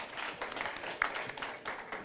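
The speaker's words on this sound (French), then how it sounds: "On applaudit quand même pour lui" Audience applause at a French high school quiz contest, a steady patter of clapping across a short stretch with no voice over it.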